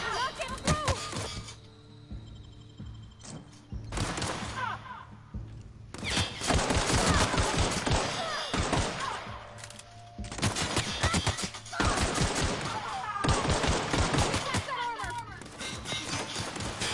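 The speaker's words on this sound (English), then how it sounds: "They have machine guns." Machine gun fire in The Outer Worlds, with repeated rapid bursts of loud crackling shots and crashing impacts, broken by brief pauses, while a person talks over the action.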